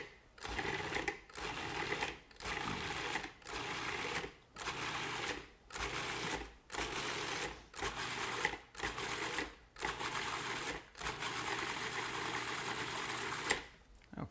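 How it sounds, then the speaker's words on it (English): A food processor pulses tomatoes and cilantro into a coarse puree: about a dozen short, evenly spaced whirring bursts, each cut off by a brief pause, heard close and fairly quiet. "Now I'm going to pulse that until I get a coarse puree."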